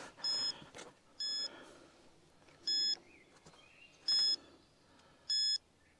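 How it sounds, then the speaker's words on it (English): A ghost-hunting scanner device gives five short, high electronic beeps at roughly regular intervals over a faint hiss, with a few soft chirps between them. "We can hear the beep as I'm scanning."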